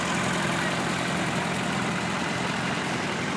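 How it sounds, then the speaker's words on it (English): A 1949 W4 tractor engine runs at a steady idle in a parade, a continuous low rumble with no change in rhythm, no talk. "Alan Mills driving this 1949 W4. Good looking tractor"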